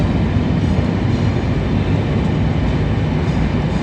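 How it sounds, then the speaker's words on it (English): Transpennine Express service from Scarborough to Manchester Victoria departing York station, a loud continuous close rumble of rolling train and rail noise filling the whole stretch without pause. "departing now will be your 12:49 Transpennine Express service from Scarborough to Manchester, Victoria"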